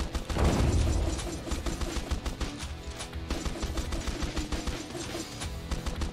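A big boom opens, then a continuous rattle of small explosions follows in the video game Swarm Grinder, a horde-survivor shooter, loud and busy with no voices.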